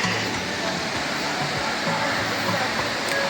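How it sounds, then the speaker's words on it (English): A waterfall surrounded by bamboo roars in a constant broadband rush, close and loud, with indistinct voices faintly underneath. "A waterfalls. It's just like Duns River Falls in Jamaica."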